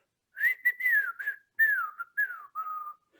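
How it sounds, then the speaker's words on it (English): A lone person whistles a short tune in a quiet moment, a string of clear sliding notes in several quick phrases with brief gaps between them, close and alone with no talking. "I just start whistling like"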